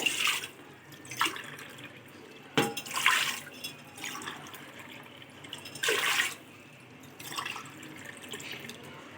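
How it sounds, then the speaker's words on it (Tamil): Water splashes and trickles in several short bursts into a heavy-bottomed pot, with quiet gaps between them, close by and with no talking. "மூணு கப்பு அளவு தண்ணியை சேர்த்தாச்சு"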